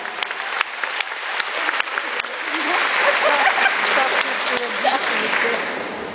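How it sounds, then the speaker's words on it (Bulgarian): Concert audience applauding a band at a seaside evening show in Burgas, a dense wash of clapping that swells and grows louder midway, with a few sharper claps and crowd noise mixed in. "Аплодисменти за тях."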